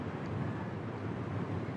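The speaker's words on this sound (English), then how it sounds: "And you can probably hear it's pretty windy here." Strong wind buffeting a microphone on the breakwater at Hope Cove, a dense, steady roar with no pauses across the short stretch.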